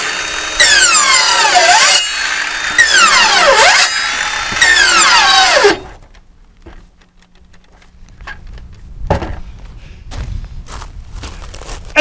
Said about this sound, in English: I'm just gonna cut some little grooves in it for drainage